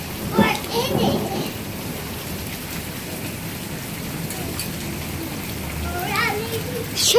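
Steady rain pours down during a storm that brings hail and a lightning strike on a house, with occasional rumbles under it, while people talk over the downpour near the start and end.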